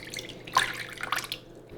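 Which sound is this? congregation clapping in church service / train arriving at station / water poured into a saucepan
water poured into a saucepan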